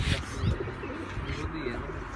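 A pigeon coos softly in short, low murmuring bursts, with faint background noise around it.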